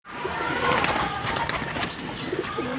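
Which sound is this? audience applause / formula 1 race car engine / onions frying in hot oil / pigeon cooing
pigeon cooing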